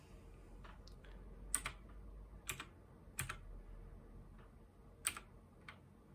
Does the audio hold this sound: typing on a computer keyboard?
yes